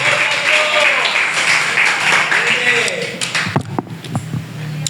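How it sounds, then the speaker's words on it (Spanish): Applause from a church congregation fills the room, broad clapping that fades out toward the end as a voice begins speaking. "Si les puedes brindar un aplauso, dáselo fuerte"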